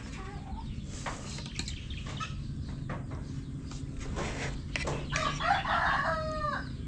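Farm chickens and ducks feeding on pellets cluck and scratch around in the background, then a rooster lets out one loud, close crow near the end over a steady low ambient hum.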